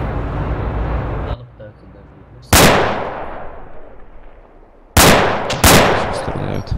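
Rifle fire in ArmA 2 with the ACE mod: three loud shots ring out, one alone and then two close together, each followed by a long rolling echo that slowly dies away.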